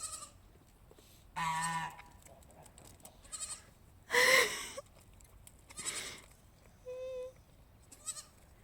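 Geese honk at a farm, with several loud, close, nasal calls spaced a second or two apart and goat-like bleats mixed in between.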